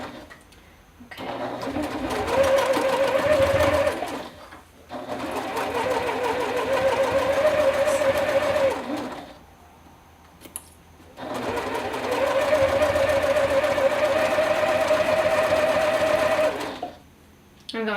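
A sewing machine runs steadily at a slow pace while stitching tucks into bag fabric, with stitch length set at 3. It plays in three long bursts with short pauses between them and stays loud and close, with no talk over it.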